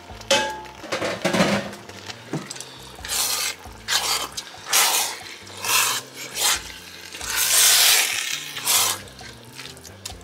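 A cup of water splashes and pours into a pot of broth for jollof rice in several uneven bursts, with scraping and clinking of cookware nearby.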